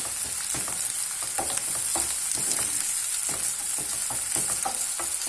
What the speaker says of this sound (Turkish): iyice kavuruyoruz.